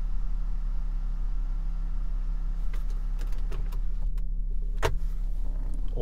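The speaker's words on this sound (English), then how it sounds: "Shutting the front blind, opening up the rear one. And then we'll shut the rear one as well." Motorised panoramic sunroof blinds in a Land Rover Discovery 5 HSE hum steadily as they open and shut, with a few light clicks and ticks near the end. The sound is close and there is no talking.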